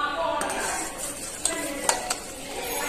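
Orange pudding mixture simmering in a pan over a low flame gives a soft continuous bubbling hiss, broken by a few light clinks of a utensil against the pan.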